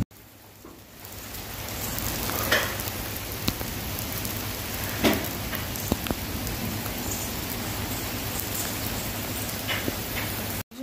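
Steady rain falls outdoors at night, a continuous even hiss of drops on surfaces with a few louder splashes, close and moderately loud with no voices.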